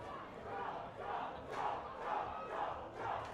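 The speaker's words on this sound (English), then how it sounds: "Hear the crowd just losing it." A large crowd at a combat tournament roars and chants in rising waves, loud and sustained, rolling in repeated surges.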